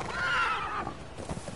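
A horse whinnies in the video game Conan Exiles, one clear rising and falling neigh up close for about a second, then fading into soft rustling and hoof-like thuds.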